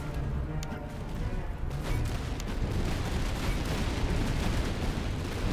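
Continuous booming cannon and artillery fire from a British expedition army battle in the strategy game Master of Command, a dense rumbling barrage of overlapping distant blasts that holds steady throughout with no clear gaps.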